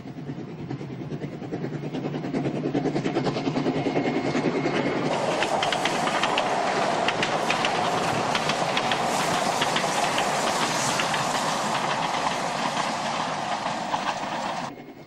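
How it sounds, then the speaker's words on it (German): The Ischlerbahn narrow-gauge railway runs past fields near Zinkenbach, a continuous loud rumble of wheels with rhythmic clickety-clack and hiss that swells and stays steady for the whole stretch, with no voices. "Von der Haltestelle Gschwand erreicht der Zug, durch die Felder bei Zinkenbach fahrend, nach einigen Kilometern St. Wolfgang Schiffsstation."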